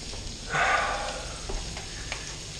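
Steak and onions frying in a pan on a small burner: a brief loud sizzle swells after half a second and then settles into a quieter, steady crackle, with no talking.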